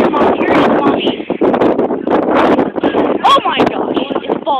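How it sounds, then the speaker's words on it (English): Strong outdoor wind buffets the microphone in loud rumbling gusts throughout, mixed with a person talking over it. "It's so windy."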